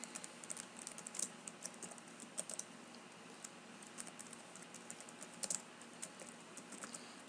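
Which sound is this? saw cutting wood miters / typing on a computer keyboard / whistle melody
typing on a computer keyboard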